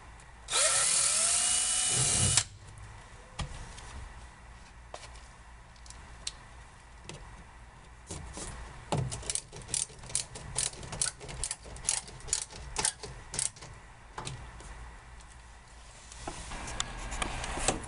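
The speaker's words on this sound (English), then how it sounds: "drilling into the metal up above." Power drill working into the roof metal of a 1964–67 commercial split-window van during headliner installation, heard as a short loud burst of whirring near the start, followed by quieter scattered clicks and taps.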